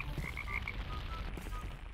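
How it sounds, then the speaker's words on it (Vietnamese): Toads summoned in RLCraft, a Minecraft modpack, give several quick, high croaks early on, then sparser calls, all set against a constant low in-game rumble, with nobody speaking. "Nó chịu hồi ra mấy con cóc anh ơi."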